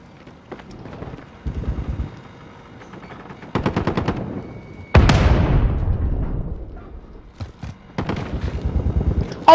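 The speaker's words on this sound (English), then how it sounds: "fucking flashbang" Loud combat in Call of Duty: Modern Warfare includes a sharp flashbang burst mid-scene, surrounded by rapid rattling gunfire bursts and echoing impacts, with no talk.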